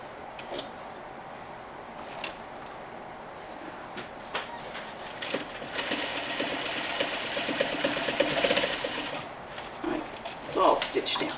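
Sewing machine stitching a slip cover with corded piping for a Parsons chair, a fast ticking whir rising midway for a few seconds, with a person talking throughout.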